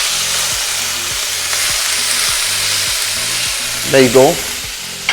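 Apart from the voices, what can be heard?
prawns with lime juice and turmeric sizzling in a pan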